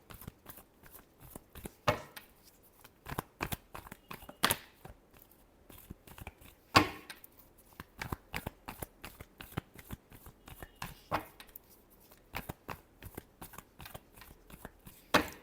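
Tarot cards being shuffled by hand, a long run of quick, crisp riffling and slapping bursts in an irregular rhythm, close and fairly quiet, with no talking.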